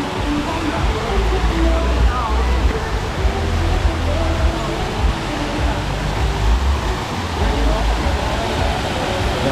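Broad steady rush of a waterfall tumbling over rock layers into a clear natural spring, continuous and close, with low rumble under the spray.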